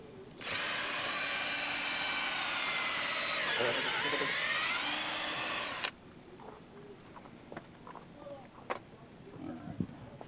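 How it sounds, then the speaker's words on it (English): A rotary hammer fitted with an auger bit drills loudly and continuously for about five seconds outdoors while a canopy is being put up, then cuts off, leaving faint clicks and handling noises. "Rotary hammer. Actually, that's an auger bit."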